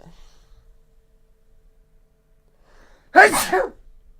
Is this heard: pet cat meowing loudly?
no